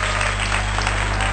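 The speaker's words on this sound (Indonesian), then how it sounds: "tepuk tangan dulu" A short burst of audience applause at a motivational talk: dense, steady clapping from a crowd, heard alone.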